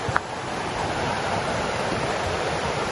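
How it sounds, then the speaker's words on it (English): River water near Falls Creek Falls rushes in a steady, full hiss, heard up close with a faint bump near the start. "I know I heard water."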